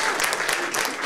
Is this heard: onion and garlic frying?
no